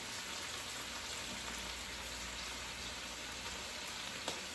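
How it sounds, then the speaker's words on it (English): Onions and mushrooms sautéing in garlic butter in a pan, a steady soft sizzle and crackle running evenly throughout, close and moderately quiet with no talking. "we're gonna add that and pour that over the onions and the mushrooms and get a nice garlic butter saute going with those"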